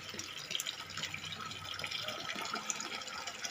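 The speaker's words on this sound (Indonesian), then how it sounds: "ini terjadi kebocoran nih sedikit. Netes." Water leaking and dripping from a solar-powered surface pump, a continuous close trickle and splash, steady and moderately loud with no talk.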